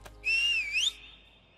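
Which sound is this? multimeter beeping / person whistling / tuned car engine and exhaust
person whistling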